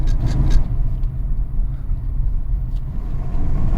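A Nissan Altima 2.5 S with a six-speed automatic slows down, its engine giving a steady low rumble with road noise that eases slightly, close and fairly loud, with no talking.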